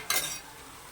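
Taro roots, boiled and cut, drop into a frying pan for a tamarind stew and give a short, bright sizzle that fades quickly, close up with no talk.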